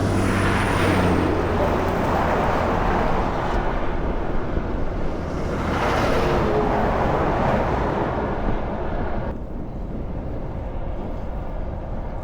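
A road train truck rolls past a cyclist on an outback road in Western Australia, a loud sustained roar of engine and rushing wind that swells and fades twice before dropping to quieter wind noise.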